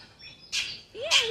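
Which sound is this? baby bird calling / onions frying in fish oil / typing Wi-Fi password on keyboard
baby bird calling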